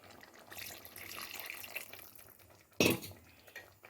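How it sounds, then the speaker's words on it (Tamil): Water poured into a pan of gravy for chapati or puri, a soft running splash that builds and trails off, then a brief sharp clatter of a utensil or lid near the end. "நான் வந்து இன்னும் கொஞ்சம் தண்ணி ஊற்றிக்கிறேன்"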